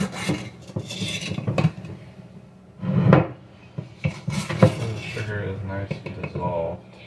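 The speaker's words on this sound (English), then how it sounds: "once you get the sugar in there, you want to stir it up real good" A spoon stirs sugar into a homemade wine mixture, giving repeated scraping and clinking against the container with a few louder knocks, close by and steady throughout.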